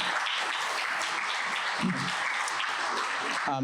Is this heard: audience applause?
yes